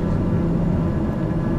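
A steady, loud propeller aircraft engine drone from Microsoft Flight Simulator 2020 holds low and even throughout, with no talk.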